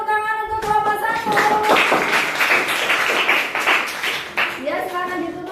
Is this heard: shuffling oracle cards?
no